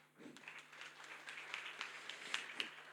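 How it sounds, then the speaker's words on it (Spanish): An audience in a church breaks into scattered applause, a quiet, distant patter of many hands clapping that builds slightly over a few seconds. "denle un aplauso a la Isa."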